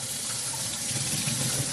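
Water runs and gushes over a 2-inch by 12-inch by 12-inch beveled acoustic foam panel as it is soaked, a close, steady rush with no voices.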